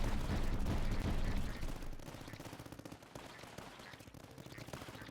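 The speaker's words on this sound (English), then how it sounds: "I can hit people in the air with my mortar?" Mortar firing in a roguelike tower defense video game, a burst of rapid gunfire-like shots and booms that starts loud and dense, then thins into quieter scattered pops.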